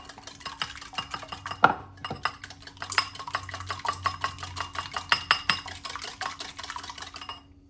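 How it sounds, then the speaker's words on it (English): A small whisk beats eggs in a bowl, giving fast, rapid metallic ticking strokes in irregular bursts with a couple of louder clanks against the bowl, close up and with no talking. "grab my little whisk and we will whisk those up"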